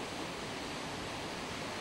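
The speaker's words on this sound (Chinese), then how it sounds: "倾听瀑布的隆隆轰响，沐浴水雾的飘渺升腾" A roaring waterfall on the Orkhon River pours as a constant, dense rush of broadband noise, steady and unbroken with no voices.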